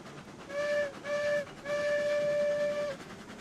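A steam-style train whistle from the railroad game Railroads Online sounds three times: two short blasts followed by one long one, loud and close, with no talking.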